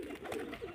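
Pigeons give soft, low cooing nearby, faint and brief with no voices over it.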